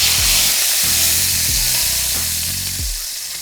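A steak sizzles in a hot pan as it is basted, a bright steady frying hiss with a few soft knocks and scrapes of the spoon, fading slightly toward the end.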